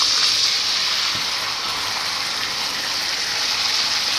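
Tomato puree hits hot oil with roasted cumin and asafoetida in a pan, a loud, even hiss of sizzling that holds steady and bright from start to finish with no talk over it.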